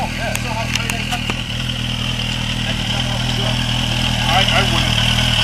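Motorcycle engine idling close by with a steady low throbbing rumble while people chat over it.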